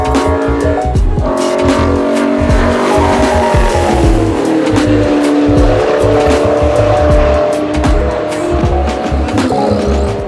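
Race cars roar loudly on the track at Hyperfest at VIR, a circuit opened in 1957. The engines form a dense continuous drone with tire squeal, close by and with no speech.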